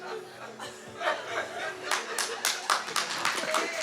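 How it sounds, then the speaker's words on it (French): A church congregation applauds after a testimony of giving one's life to God, clapping building from scattered hands to fuller bursts, with light chuckles and murmured voices underneath. "On les applaudit"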